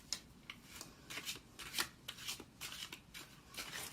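Tarot cards being shuffled during a reading, a quick series of soft, papery riffles and flicks at close range with no talking.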